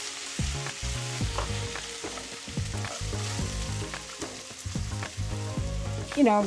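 Ginger and onion fry in a hot pan with a loud, continuous sizzle, while a utensil stirs and taps rhythmically against the pan. A brief louder scrape comes near the end.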